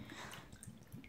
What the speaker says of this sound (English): we are going to start off by pouring in our Brisk lemonade